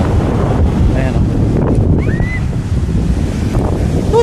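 Sea waves surge and wash continuously at Casapsapan Beach in Casiguran, Aurora Province, loud and close with steady wind buffeting the microphone and faint voices mixed in.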